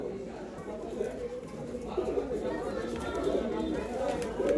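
Low, soft pigeon coos ripple steadily among caged birds at a pigeon sale in Bangalore, close and continuous, with people talking over them throughout.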